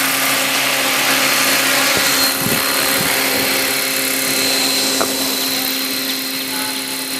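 A Devil 380 RC model helicopter flies steadily nearby, its rotor and motor giving a continuous, even whine with a low buzzing hum throughout and no talking.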